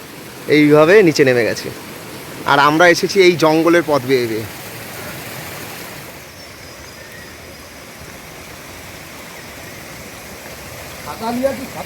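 A waterfall stream in a hill forest gives a steady, broad rushing wash. A voice talks over it at first, then the water continues alone, and speech returns briefly at the end.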